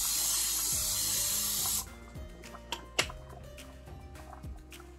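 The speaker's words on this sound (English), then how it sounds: "a little bit more cooking spray." A short hissing spray burst from a can of cooking spray for nearly two seconds, followed by a few faint clicks and light kitchen clatter.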